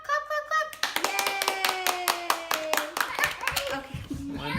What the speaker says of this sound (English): Say clap, clap, clap, clap.